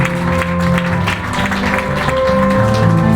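An audience applauds a graduate at a graduation ceremony. Continuous, fairly loud clapping runs under sustained music with steady tones, and the level swells slightly near the end.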